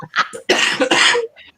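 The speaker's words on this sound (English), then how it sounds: "He's coughing." A voice coughs and clears his throat in a short, close burst of two or three harsh coughs, loud and dry, during a casual drink-and-draw art session.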